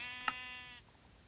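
Short Minecraft sheep bleat, a single wavering tonal call lasting under a second, clear and fairly close with a tiny tap partway through and quiet room hiss after.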